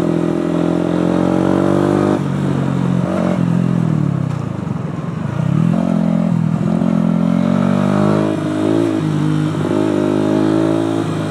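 A Yamaha YZF 125 four-stroke motorcycle is ridden steadily, its engine note rising and falling as the throttle is worked, close and continuous with a brief dip and recovery midway, no talking over it.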